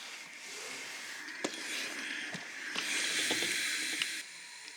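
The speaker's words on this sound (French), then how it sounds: "on vient presser la couture ouverte avec un fer" A steam iron pressed onto an open fabric seam, giving a steady broad hiss of steam that swells midway and cuts off near the end, with a few soft thumps of the iron on the board.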